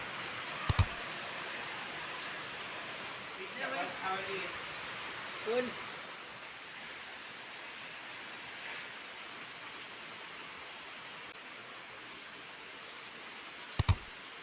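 Steady soft rain hiss fills the background, with a few faint rustles and two sharp clicks near the start and end.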